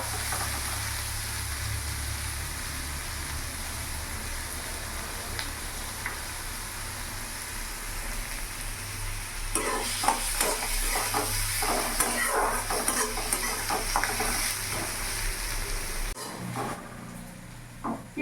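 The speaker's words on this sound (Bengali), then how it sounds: "পেঁয়াজের যতক্ষণ না কাঁচা গন্ধটা যাচ্ছে ততক্ষণ আমি একটু ভেজে নেব" Onions fry in a pan over a gas flame with a constant sizzling hiss, and stirring scrapes grow busier partway through before the sizzle drops off near the end.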